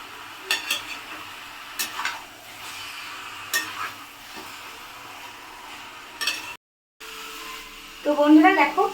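Chicken and potato pieces being stirred in a pan for mango dahi chicken, giving scattered scraping clinks and a low sizzle, ending in a louder burst of frying and stirring.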